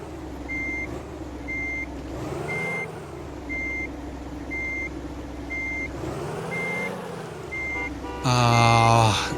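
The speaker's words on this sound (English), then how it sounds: "Can you just stay there while I'm reversing this truck?" A truck reverses with a steady, evenly spaced electronic warning beep repeating over a low engine rumble, and a louder tonal sound cuts in at the end.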